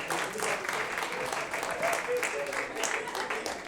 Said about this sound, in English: A round of applause for Yvonne.